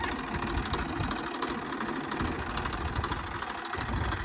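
A farm tractor, driven by a first-time learner, runs with a steady, rough diesel rumble and knocking vibration that stays even and continuous throughout.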